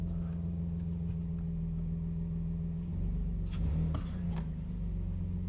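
Nissan Frontier pickup driving on a short test drive after a shifter cable bushing repair, a steady low engine rumble throughout with a brief swell of revving and rattling near the end, no talk.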